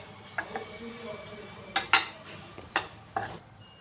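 White sesame seeds and coconut dry-roasting in a pan: a handful of distinct metal spoon clinks and scrapes against the pan, spaced out over a soft background hum.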